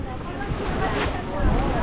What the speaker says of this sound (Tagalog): Medyo humina ang hangin ng konti.